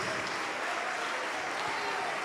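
Steady applause from a church congregation filling the whole stretch, dense and even with no breaks, and a faint murmur of voices mixed in.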